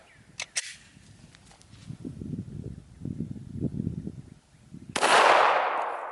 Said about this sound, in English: So let's get to shooting.